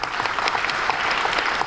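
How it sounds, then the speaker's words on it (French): Brief, dense applause from a theatre audience at a book dedication ceremony at the Daniel Sorano national theatre, a loud continuous patter of many hands. "Je voulais bien qu'on les applaudisse."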